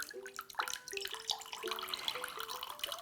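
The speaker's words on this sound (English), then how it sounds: "I'm just opening the lid a little bit, drain out the liquid" Liquid pours and trickles out of a pickle press with the lid opened slightly, a close, steady gurgling stream with splashing and tonal glugs, unbroken for about three seconds.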